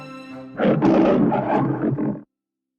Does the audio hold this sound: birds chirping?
no